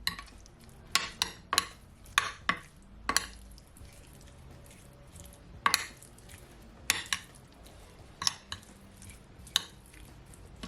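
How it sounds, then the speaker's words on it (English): A metal spoon stirs Cajun chicken and shrimp pasta in a pan, giving close, irregular clinks and scrapes against the pan with soft gaps of quiet between them. No one talks. "I'm just gonna take a spoon and just mix it all in."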